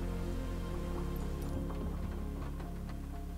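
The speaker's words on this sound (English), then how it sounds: "it's raining here" Rain in Microsoft Flight Simulator 2020 patters with fine ticking drops against the aircraft, heard steadily over a loud, low engine drone.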